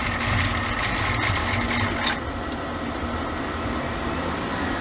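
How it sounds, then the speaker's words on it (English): An old truck engine barely idles, a steady low rumble with a faint mechanical hum and one brief knock near the middle, close and continuous. "It's just barely idling now."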